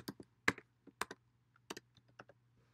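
A name typed on a computer keyboard while setting up a media source in Kodi: a quiet, irregular run of distinct key clicks with short pauses between them, alone with no talk.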